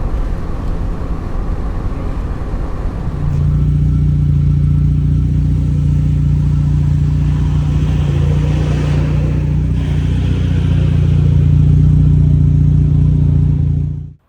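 A turbocharged Mazda RX-7 FB with an Elford turbo setup drives along, its engine droning steadily from inside the cabin, with a rise in load partway through and a sustained loud hum throughout.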